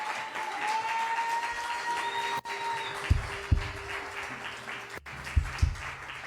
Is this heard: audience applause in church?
yes